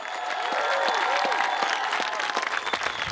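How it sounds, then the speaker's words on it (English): A crowd of school students claps and cheers loudly at a school event celebrating an education investment, dense sustained applause with shouts carrying steadily from start to finish. "How about a big Panther cheer?"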